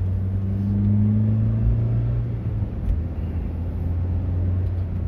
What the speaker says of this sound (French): le moteur, on l'entend, il est un petit peu sonore